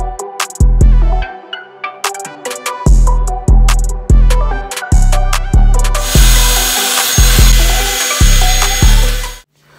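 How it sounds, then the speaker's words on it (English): Power drill working on car pedals during upgrades to a BMW E46 Touring, loud close bursts of drilling repeated about a dozen times with brief pauses between, ending in a longer continuous run. "while the pedals are being drilled and fitted"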